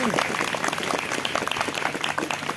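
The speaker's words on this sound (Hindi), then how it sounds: "तालियों को बजाओ, प्रभु का वेलकम करो" A church congregation applauds during a worship service, a dense, steady wash of many hands clapping close by, loud and continuous throughout.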